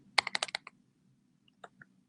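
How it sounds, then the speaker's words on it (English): Quick burst of keyboard typing on a computer during an online lecture, about six crisp keystrokes in rapid succession, then a pause and a couple of isolated taps, close and clear over a faint background hum. "Maybe I'll type a message here."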